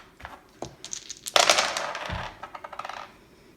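Dice clatter and tumble across a hard table, a rattling burst of clicks that peaks then settles into a few scattered taps.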